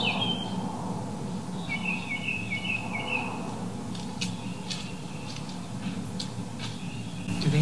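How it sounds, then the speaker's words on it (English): Birds chirp and trill at night near 1 a.m. in East Rutherford, New Jersey, against a quiet low hum: a repeated warbling call early on, then scattered short sharp chirps. "What's up with the birds chirping?"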